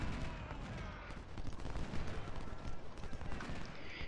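Artillery and massed rifle fire from a Civil War battle on Malvern Hill in Ultimate General: Civil War rumble continuously at moderate distance, with dense crackling volleys over a low booming bed.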